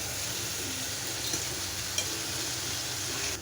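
Ground coriander, cumin, turmeric and Kashmiri chili powder sizzle steadily in hot oil for a Bengali tilapia curry, a loud, even frying hiss with a couple of faint stirring taps.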